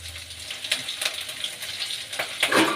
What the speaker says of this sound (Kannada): ಎಣ್ಣೆಲಿ ಸ್ವಲ್ಪ ಫ್ರೈ ಆಗಲಿ.